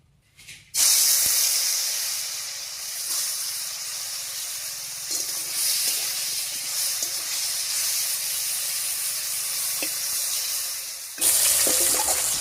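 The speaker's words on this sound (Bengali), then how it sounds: "তেল গরম হয়ে গেছে, এবারে মাছটা দেব।" Dried fish, rubbed with turmeric, drops into hot oil in a kadai and sets off a steady, strong sizzling hiss lasting about ten seconds, then a fresh louder burst of spitting oil.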